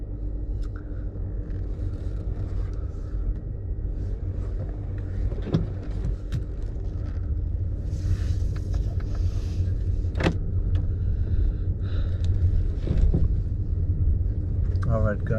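A 2020 Honda Accord Hybrid drives on the road, with a steady, moderately loud low rumble of the car's road and cabin noise that runs continuously throughout, with a few faint clicks and small cabin sounds on top.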